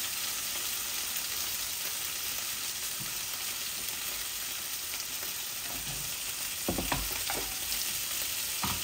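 A chitol fish head fries in oil in a pan, making a steady soft sizzle throughout, with a few louder stirring scrapes and knocks near the end, no voices.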